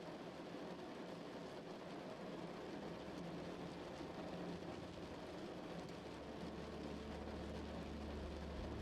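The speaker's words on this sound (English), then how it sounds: "you only attend to the sound of the rain in helping you into sleep" Steady, dense rainfall with a constant wash of drops, loud and even throughout, with a low rumble underneath and no voices.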